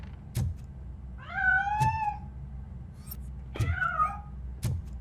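A cat in the video game RoboCop Rogue City gives two drawn-out meows, clear and close, between sharp clicks and thumps, with no talk over them.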